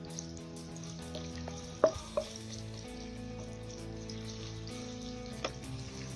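Onions frying in a pan over a medium flame for daal gosht, a steady close sizzle with a few sharp clanks of a spoon against the pan, no speech.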